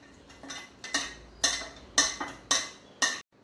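A spoon mixes crushed sugar and crushed Oreos in a bowl, giving about seven quick, sharp clinks in a steady rhythm. The strikes are close and clear, with no voices.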